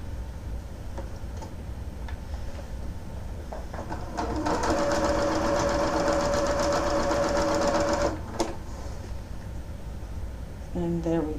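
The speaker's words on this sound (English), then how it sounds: "I'm going to sew the last 2 on, making sure that things are lined up properly and going in the right direction." A sewing machine stitches leftover quilt binding in one sustained run of rapid mechanical whirring and ticking lasting about four seconds, close by, with quieter handling sounds before and after.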